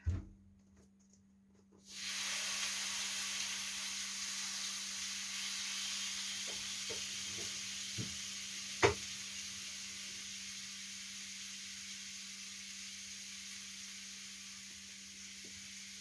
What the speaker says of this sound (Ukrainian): Нарізала я м'яско і понесла я на сковорідку